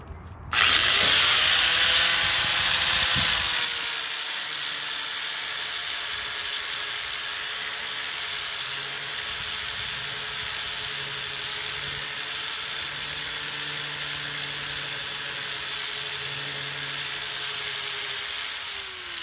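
A loud, steady power grinder whines continuously against metal while sharpening a garden tool, a harsh high-pitched roar that starts abruptly and holds for the whole stretch with no talking.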